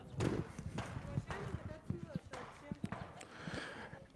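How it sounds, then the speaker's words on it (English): Horse hooves clip-clop in an irregular rhythm at moderate distance on Sviyazhsk island town in Tatarstan, mixed with people talking and other outdoor activity. "Another horse riding."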